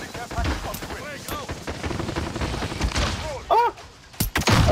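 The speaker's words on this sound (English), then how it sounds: "I was just randomly shooting." Gunfire in a video game sounds as rapid, repeated shots through a noisy, cluttered mix with some voices, and then a few sharper, louder bangs near the end.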